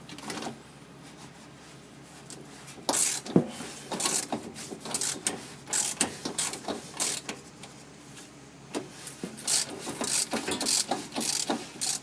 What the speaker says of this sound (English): let's try our new canister removal tool.